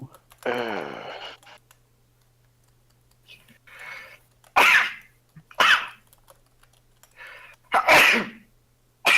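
Several sharp sneezes burst out close by among brief murmured voices, with quiet pauses in between.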